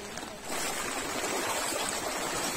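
A stream flows down a Konkan gully and on toward a dam, its steady broadband rush swelling in after a brief quieter start and then holding constant and close.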